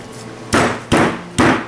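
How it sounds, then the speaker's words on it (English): Three loud metallic hammer blows at a steady, deliberate pace, a big hammer striking a Polaris Outlaw IRS rear axle to compress a retaining ring, each impact sharp and close with a ringing decay. "I smack the hammer, it compresses the ring"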